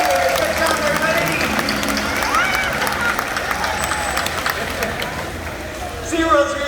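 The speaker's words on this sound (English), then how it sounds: "How about a huge round of applause for Malia, Alani, Katina, and her audience volunteers" An audience at a SeaWorld orca show applauds and cheers in a sustained, dense wash of clapping, with crowd babble and a voice over the noise.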